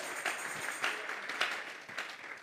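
A church congregation applauds in regular bursts, clapping in a rhythm of about four swells, at moderate distance in a reverberant room.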